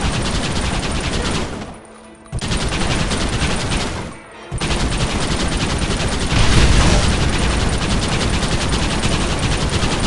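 Loud, sustained bursts of automatic gunfire rattle almost without pause, broken by two brief gaps, with the barrage swelling heavier toward the end.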